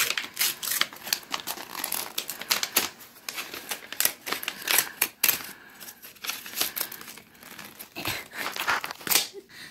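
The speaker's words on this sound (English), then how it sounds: "Let's open the envelope and see what's inside." Paper crinkles and tears as an envelope is pulled open by hand, a busy run of close rustling and ripping with irregular bursts and no talking.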